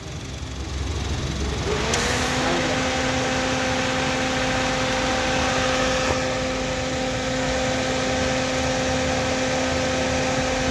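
A car engine idles under a broad steady hiss, and a couple of seconds in the air conditioning engages with a clear rise in steady tonal hum that continues alone to the end.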